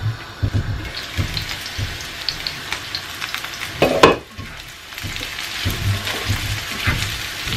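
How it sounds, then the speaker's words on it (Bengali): Cauliflower pieces sizzle and crackle in a frying pan, with steady hissing and occasional clinks and scrapes as they are stirred and turned, close and without voices. "এভাবে ভালো করে উল্টে পাল্টে দিলে এটা সব সাইডে সমানভাবে ফ্রাই হবে"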